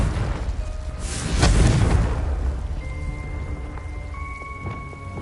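In Hogwarts Legacy, the Confringo spell bursts as a single deep, rumbling explosion that swells and then fades into a low crackling tail, alone with no voices over it.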